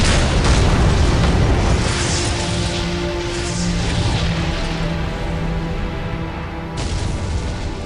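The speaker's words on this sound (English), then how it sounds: "the charges detonated and the plasma conduits exploded" Sci-fi explosion effect of demolition charges detonating aboard an ork pirate starship, rupturing plasma conduits; a loud, sustained rumbling blast fills the whole stretch with low roaring debris and a brief renewed burst near the end, no talk.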